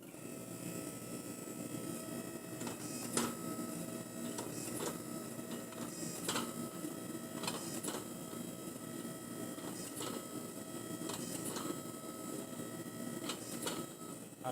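A forging press slowly squeezes a hot Damascus steel billet, a steady mechanical hum and hiss running throughout with sharp metallic ticks and clicks recurring every second or so, fairly close and without speech.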